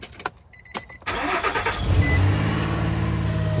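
A Nissan Frontier truck's engine starts without the clutch pressed: a few clicks and brief cranking, then the motor catches and settles into a loud, steady idle.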